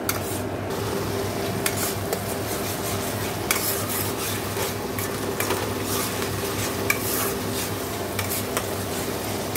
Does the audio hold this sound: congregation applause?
no